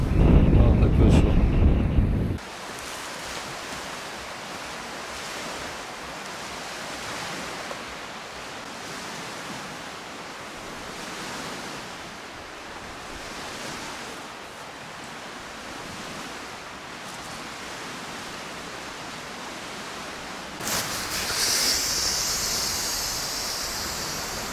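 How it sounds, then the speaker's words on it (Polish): Strong wind on a bikepacking trip in Masuria buffets the microphone in a steady roaring rush, with louder bursts at the start and end. "Ale ten wiatr tu daje."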